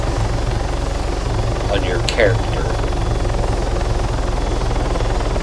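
A helicopter in ARMA 3 flies with a steady low rotor thump and engine drone, loud and continuous beneath someone speaking.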